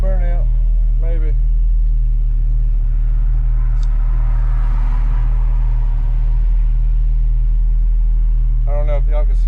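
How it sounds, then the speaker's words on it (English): Chevrolet C10 truck engine rumbling steadily with a deep low drone and a swell in the middle as it is revved for an attempted burnout, with someone talking over it at the start and end. "we're gonna try to see if we can get a little burnout, maybe"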